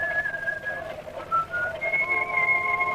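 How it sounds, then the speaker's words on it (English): A man whistles a tune in clear, sustained notes with short pauses between phrases, close and alone over a quiet background. "he whistled that tune"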